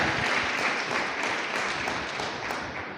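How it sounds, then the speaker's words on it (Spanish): A church congregation applauds loudly after a pastor's call, steady dense clapping from a large crowd filling the room throughout and fading slightly toward the end. "Dele un aplauso fuerte, pero fuerte al Señor."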